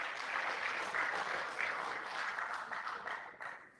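An audience applauds at a research foundation launch and fundraising event, a faint, steady patter of clapping that tapers off near the end.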